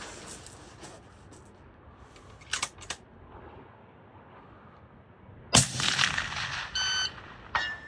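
Gunshots at a shooting range during a private firearms lesson in Dawson, Texas, a few loud, sharp cracks with ringing tails spread apart over quieter background, a beeping shot timer between them.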